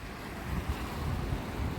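Wind-driven waves, some around 2.5 feet, run against the current on a river, giving a steady churning wash of water mixed with rumbling wind noise, continuous and fairly loud.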